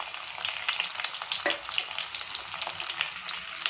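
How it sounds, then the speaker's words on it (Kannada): Sliced onions drop into hot oil already frying with spices, a bright continuous crackling sizzle with a sudden burst as they hit the oil, close and steady, no voices. "ಈರುಳ್ಳಿನ ಹಾಕ್ತಾ ಇದ್ದೀನಿ."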